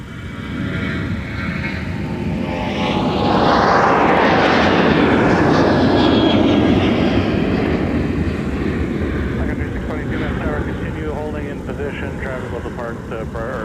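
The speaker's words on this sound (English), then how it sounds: "clear for takeoff." A SkyWest airliner takes off from runway 30 right at Minneapolis–Saint Paul airport, its jet engines building into a broad, loud roar that peaks and then slowly fades as it departs, with a faint radio voice beneath.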